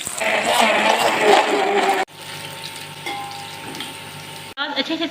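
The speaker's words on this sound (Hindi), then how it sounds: "मैं इसको सुनहरा होने तक भून लूँगी।" Onions frying in a cup of oil in a cooking pot for pulao give a dense, loud sizzle for about two seconds, then a softer, steady crackle, with a brief louder burst near the end.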